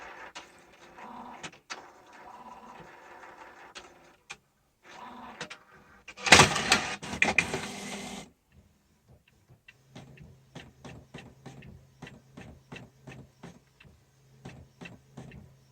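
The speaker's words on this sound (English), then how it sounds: "It prints very, very silent if it's, you know, on a sturdy surface." A Canon Pro9000 Mark II inkjet photo printer at work: a whirring mechanical run with a louder feed burst, then a steady series of quick ticking print-head passes over a low hum, close and fairly quiet.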